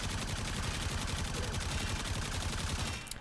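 Rapid gunfire from the Dera Vandal rifle in Warframe rings out as a dense, continuous burst of shots. It is loud and close throughout and trails off right at the end.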